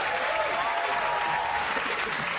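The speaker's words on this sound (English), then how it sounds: "You people, will you just clap anything?" Studio audience applause on a comedy panel game show, a steady wash of clapping from a crowd held at an even level throughout.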